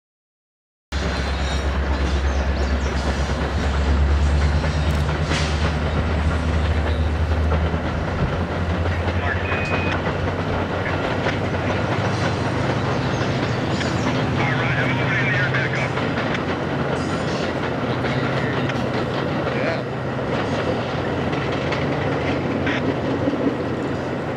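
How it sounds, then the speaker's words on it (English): A Metra commuter train in Rock Island tribute colors passes on an overhead line, its rumble and rail clatter loud and continuous from start to finish after a brief silence. "Overhead, Metra 425 also wears Rock Island tribute colors, which is quite fitting being on home rails."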